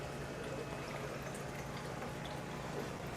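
Water flows in a steady, even wash with a gentle burbling texture, continuous and close throughout with no voices.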